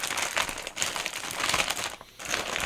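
An AliExpress mail package being cut open with a handheld tool, giving close crinkling and tearing of plastic packaging in uneven bursts with a brief pause, loud and near, no talking.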